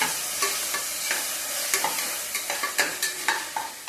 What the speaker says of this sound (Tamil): அடுத்து வச்சிருக்கிற இந்த ஆனியனை நெக்ஸ்ட் போட்டுக்கிறோம். கூடயே இந்த பச்சை மிளகாய்களையும் போட்டுக்கலாம்.